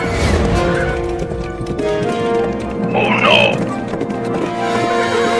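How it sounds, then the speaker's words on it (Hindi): A cartoon horse's hooves clip-clop rapidly along a railway track in a steady galloping rhythm, set against a busy, dense animated soundtrack with a brief bright clatter partway through. "अरे दादा, ये घोड़ा ट्रेन की लाइन पर ही दौड़ने लगा।"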